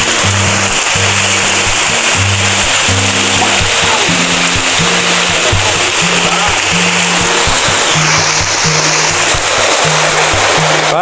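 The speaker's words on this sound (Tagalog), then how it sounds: "grabe po ulan" Heavy rain pours down steadily around a house, a loud, dense, continuous wash of water noise with a low tonal hum beneath it.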